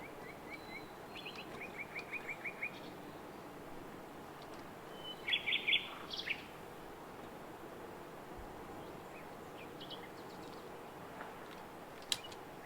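Ambient bird calls from an Unreal Engine game soundscape meant to suggest a tree canopy: scattered, faint chirps and short trills drift over a steady hiss, with a slightly louder burst of calls near the middle.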